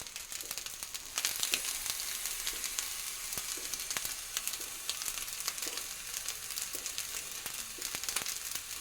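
Chopped onion pieces fry in a pan with a constant close sizzle, broken by frequent sharp pops and crackles scattered irregularly across the whole stretch.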